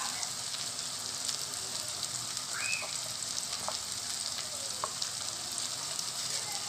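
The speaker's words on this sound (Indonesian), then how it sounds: "Kita tumis lagi sampai matang." A ground paste of chili, garlic, shallot and candlenut fries in oil with a steady, even sizzle and an occasional faint stir, with no talk over it.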